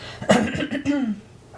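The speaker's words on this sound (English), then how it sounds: "My morning cough" A pair of close, rough coughs with a short rasp between them, fading into quiet breathing.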